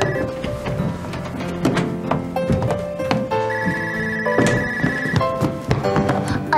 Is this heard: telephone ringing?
yes